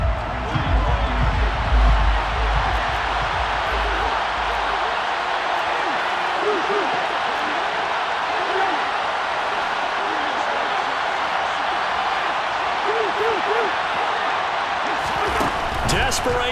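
Stadium crowd noise in the Madden NFL 23 football video game, a steady broad roar of applause and cheering sustained throughout, loud and continuous, with a brief burst near the end.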